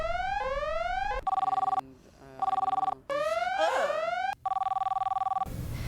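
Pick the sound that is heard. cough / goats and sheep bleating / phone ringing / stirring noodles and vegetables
phone ringing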